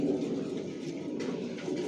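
Racing pigeons of an original racer line coo steadily in a loft, a continuous low murmuring chorus of many birds at close range with no talk.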